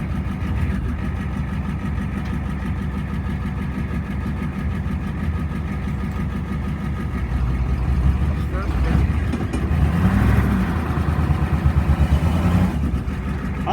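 A 1989 Ford F-350 dually with a 7.3 IDI diesel, started for the first time in six years, idles with a steady low rumble, then revs up louder around the middle before settling; voices talk over the engine.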